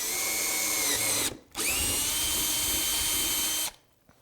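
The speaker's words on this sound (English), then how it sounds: "I'm going to take my 1/2-inch drill bit and drill" A power drill with a 1/2-inch bit whines steadily through a hole, pausing briefly, then running again before cutting off.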